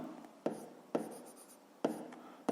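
A pen scratches out numbers for a fifth-grade math exercise, three or four sharp taps and strokes spaced about half a second apart, close and alone.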